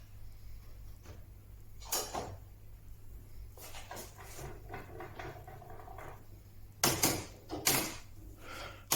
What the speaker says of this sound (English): Again, you'll hear this creak.